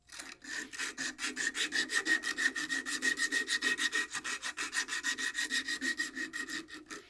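Sandpaper scrubbing rapidly back and forth on a hand-carved wooden spoon, producing a steady run of about thirty raspy, close strokes in even rhythm with no talking.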